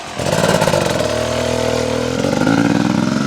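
A 2014 Beta dirt bike engine runs nearby with a buzzy, steady rev, rising briefly at the start and again toward the end, loud and alone without talk.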